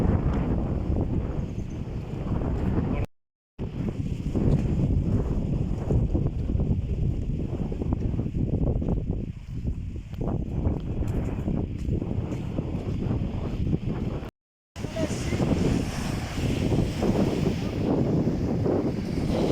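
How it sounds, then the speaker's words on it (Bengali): Strong sea wind blows across the microphone on a seaside island beach by a club, a loud continuous roaring buffet with faint surf beneath, briefly cutting out twice. "কত সুন্দর হাওয়া বইছে"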